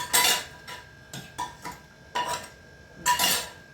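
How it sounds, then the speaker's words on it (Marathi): Metal dishes and utensils clatter in several separate bursts, clinking and scraping close by. "भांडी घासायला ठेवले"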